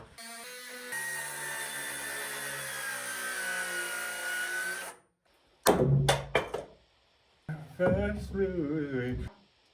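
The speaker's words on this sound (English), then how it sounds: "So we're gonna have to cut part of this stud right here." A power tool cuts into a wooden stud on a log cabin basement stairway, whining steadily for about four seconds and then stopping. A few knocks follow, and people talk briefly afterward.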